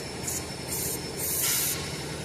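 Short bursts of spray hiss through a Quester outboard fuel injector, three pulses with the last one longest, close up and alone over a low background hum.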